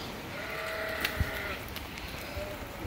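Sheep bleat at a farm barn in a snowy Canadian setting, a few faint calls rising over steady background noise and wind.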